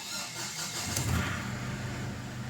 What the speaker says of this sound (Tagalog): Start ko muna itong makina.